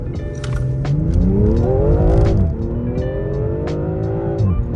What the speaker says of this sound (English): Like you want something that makes a bit of noise once it's in sport.